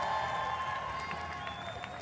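A crowd at a strongman competition during a Thor's Hammer record attempt claps and cheers steadily throughout, with a commentator's voice faintly over the noise.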